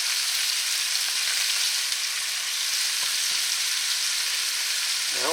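Chicken pieces fry in bacon grease in a skillet, giving a loud, continuous close-up sizzle with fine crackling throughout and no talking.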